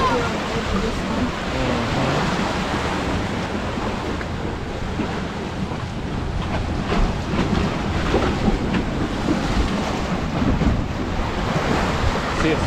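Ocean waves splashing against shoreline rocks covered in snails and mussels at Hobe Sound, Florida: a constant roaring surf with surges and heavy wind buffeting the microphone, and people talking intermittently.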